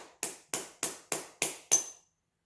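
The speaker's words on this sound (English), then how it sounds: "You just hammer it out" Six evenly spaced metallic hammer taps ring out one after another, each short and sharp, ending in silence, as a car suspension part is hammered out while installing a rear camber kit.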